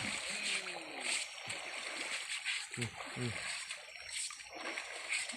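Water splashes and sloshes in short bursts as someone swims in a river, with someone speaking over the splashing, which sits close and moderately loud.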